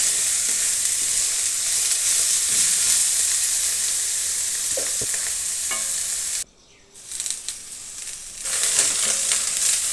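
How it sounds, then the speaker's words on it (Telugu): Bitter gourd frying in a pan gives a steady, close sizzle with occasional stirring scrapes, briefly dropping off in the middle before the frying noise returns. "మధ్య మధ్యలో వేయించుకుంటూ ఉండాలి కాకరకాయను"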